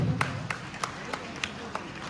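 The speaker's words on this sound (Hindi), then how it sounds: "इनके लिए भी जोरदार ताली बजाइए" Sparse, evenly spaced handclaps from an audience at a Jharkhand Mukti Morcha political rally in Lohardaga, light and somewhat distant, with voices in the background.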